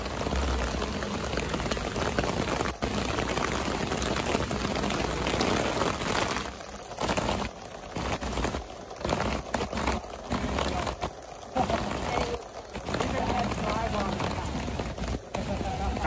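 Steady rain patters on a Nashville street on Broadway on a Saturday night, a dense, continuous hiss with voices talking over it.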